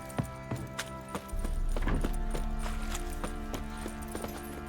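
Hooves of the horse Roach clip-clopping in The Witcher 3, a steady walking rhythm of close, distinct hoof strikes over a layered game soundscape with sustained tones and a low rumble rising partway through.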